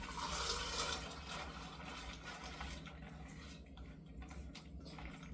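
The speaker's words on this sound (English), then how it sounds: "I'm gonna pour in my split peas that have soaked for 2 days in." Soaked split peas pour into a pot partly filled with water for split pea soup, making a soft, continuous watery rush and sloshing that fades slightly toward the end. The sound is faint and quiet overall.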